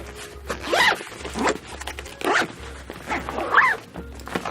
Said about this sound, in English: zip this right up